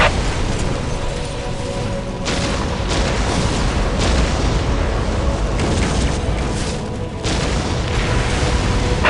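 Whirlwind artillery tank firing in Warhammer 40k Dawn of War: heavy, loud booms repeat every couple of seconds over a continuous rumbling roar of battle.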